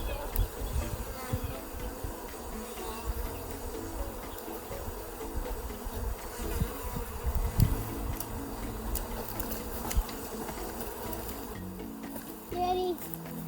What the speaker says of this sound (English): there's still bees in here